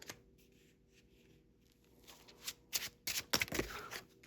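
A deck of tarot cards is shuffled by hand, with quiet handling at first and then a burst of quick, crisp riffling flutters close to the ear.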